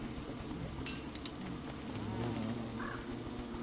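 Bees buzzing in the video game Don't Starve, a steady insect drone that continues throughout, joined by a few soft clinks, with no talking.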